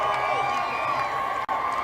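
A large rally crowd in Bullhead City, Arizona cheers and whoops as Air Force One lands, a steady, dense roar of voices at moderate distance.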